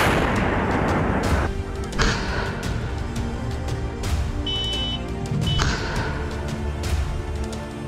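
A tank strike in the Kherson region, a T-64BV firing on a T-72B3: several heavy booms and thuds land at irregular intervals over a rumbling, noisy battlefield background, with no talk.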